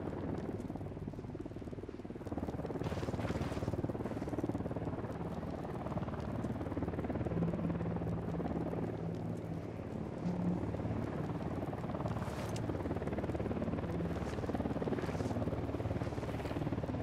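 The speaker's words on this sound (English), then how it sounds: "Chopper's approaching." A helicopter in Ghost Recon Wildlands drones steadily as it draws nearer, a broad rumbling whir that holds for the whole stretch amid faint game ambience, with no talk over it.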